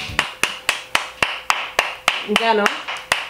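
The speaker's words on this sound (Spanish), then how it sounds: "Un aplauso para Dani." A few people give a short round of applause for Dani, off camera, in the opening of a Japanese candy tasting: about a dozen evenly spaced sharp claps, close by, with a brief spoken remark partway through.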